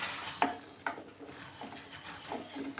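A spoon stirs sugar into boiling milk in a pot, faint scraping clinks against the metal at irregular intervals over a soft simmer.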